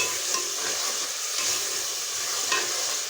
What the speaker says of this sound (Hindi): टमाटर को सही भूनेंगे, सही करके इसका कच्चापन ख़त्म कर देंगे